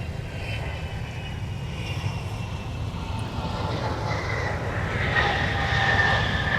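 Former Northwest Red Tail airliner arriving at MSP airport from Las Vegas, a steady jet roar that slowly builds in loudness with a faint rising whine, heard from a distance outdoors with no talk.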